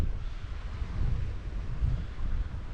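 Steady wind blows across a microphone while sailing off the south coast of Norway, a broad low rumble with gusty swells that holds for the whole stretch, with no voices.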